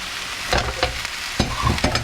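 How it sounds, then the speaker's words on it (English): Cooked beef fries in a pan with a steady close sizzle, broken by a few sharper scrapes and clacks as a utensil stirs it; nobody speaks. "Into that I am going to add the cooked beef and cook this again about a minute or two"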